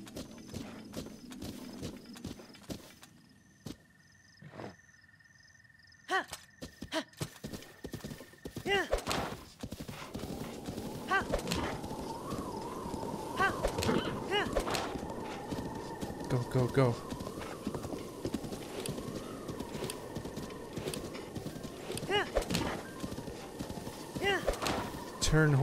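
A horse gallops steadily in Breath of the Wild, hoofbeats running close and continuous after a brief quiet stretch, mixed with game sounds while someone talks and urges it on.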